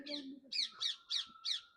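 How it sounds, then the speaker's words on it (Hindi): A pair of parrots perched in a tree in a Himalayan village give five harsh, rasping squawks in a quick, evenly spaced series, fairly close and clear. "देखो, बोले ना पैरट कितनी अच्छी अच्छी आवाज निकाल रहे हैं।"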